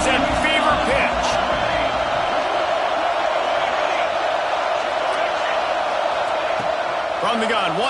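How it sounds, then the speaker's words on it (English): Dense, continuous roar of a stadium crowd in the college football video game NCAA 26 during a third-down red zone play, loud and sustained throughout. "this crowd is at fever pitch"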